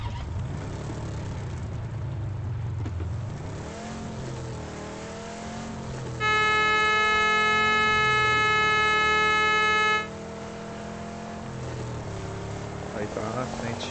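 A car engine in the video game PUBG drones and revs, rising and falling in pitch under players' talk, with a steady tonal sound cutting in midway.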